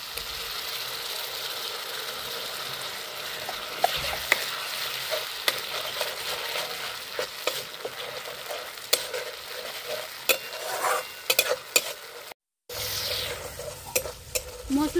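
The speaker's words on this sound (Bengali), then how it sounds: "মশলাগুলো ভালো করে কষিয়ে নেব" Spice paste with sugar being stir-fried in a pan for a Bengali spinach kofta gravy: steady close sizzling with frequent scraping, clacking stirring strokes, and a brief silent gap near the end.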